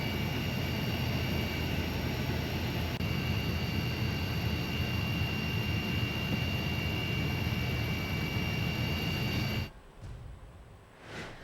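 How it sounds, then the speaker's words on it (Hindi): Steady, loud engine roar of a helicopter in flight over flood-hit areas in Uttarakhand, continuous and close, then cutting out abruptly near the end. "कैसे पुष्कर सिंह धामी ने बाढ़ग्रस्त इलाकों का जायजा लिया है। हेलीकॉप्टर में बैठे हुए आपको नजर आ रहे होंगे"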